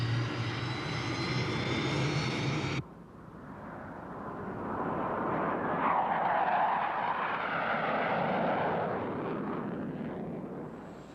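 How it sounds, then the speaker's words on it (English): A NASA jet aircraft roars in flight, a broad rushing engine drone that cuts from one loud segment to another, swelling and easing as it continues steadily; no voices. "A specially equipped NASA jet allows us to see some of its most striking features from the air."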